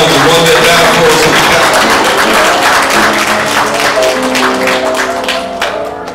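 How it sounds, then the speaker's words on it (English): Church congregation applauding together, a dense, loud wash of clapping mixed with crowd noise and music that tapers slightly near the end. "put your hands together for the one that matters most"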